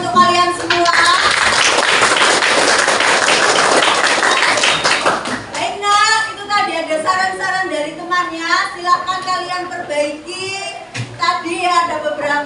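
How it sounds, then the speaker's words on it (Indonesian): Dense hand clapping from a classroom full of children fills the first five seconds, loud and steady, then fades out as a teacher's voice takes over with speech. "Beri tepuk tangan"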